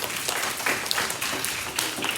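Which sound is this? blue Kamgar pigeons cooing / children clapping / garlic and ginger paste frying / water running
children clapping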